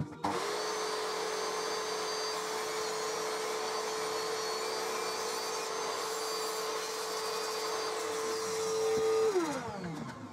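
A table saw rips a strip of wood for a coat and shoe rack, its motor holding a steady loud drone with cutting noise throughout, then winding down at the end.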